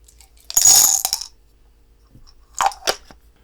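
Teeny tiny dice from a cube bowling game rattle and click, a bright clattering burst followed by a few quick small taps, close and otherwise quiet.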